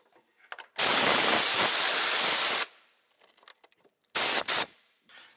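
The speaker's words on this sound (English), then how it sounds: "Get some air and blow it off." Compressed air blasts rust off the rear strut of a 2004 Ford Explorer 4X4, a loud close hissing burst of about two seconds followed after a pause by two shorter sharp puffs.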